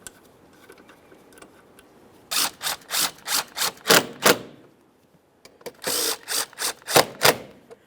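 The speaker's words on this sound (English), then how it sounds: "We'll start each of those 2 in and snug them up." Two 7mm mounting bolts on a radiator in a 2013-2020 Ford Fusion 2.0L L4 are tightened with a ratchet, two close bursts of rapid clicking separated by a short pause.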